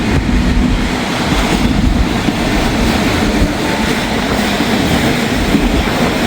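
An intermodal freight train slows on a curve, its wagons producing a steady, loud, close rumble with faint clickety-clack from the wheels throughout.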